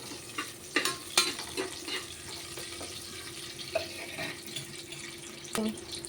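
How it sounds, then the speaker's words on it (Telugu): Green chillies frying in a little oil for a goat head curry, a quiet sizzle under scattered clinks and taps of stirring, with a couple of sharper knocks against the pan. "పచ్చిమిరపకాయలు కూడా కొంచెం నూనెలో గోలాలి"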